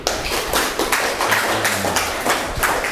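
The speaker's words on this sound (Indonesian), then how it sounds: "Beri tepuk tangan dulu." A classroom of students in a religious education lesson claps hands in a rhythmic, patterned beat, the sharp claps repeating steadily and close by for several seconds.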